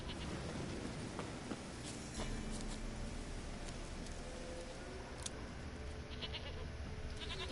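Goats bleat in The Witcher III, the calls faint and scattered over a steady, noisy game ambience with a few light footstep-like taps.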